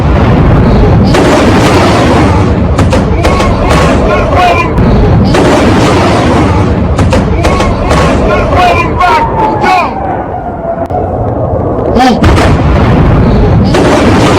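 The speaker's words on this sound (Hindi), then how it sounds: "सुबह होते ही आंख खुलते ही इजरायली मिसाइल ईरान पर गिर रही।" Israeli missile strikes on Iran captured in news footage, a dense barrage of loud booms and sharp blasts following one after another, mixed with crowd babble and shouting.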